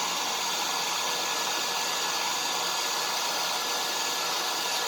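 A child's Disney princess hairdryer on low heat blows with a constant, even whoosh of air, loud and unbroken from start to finish with no voices.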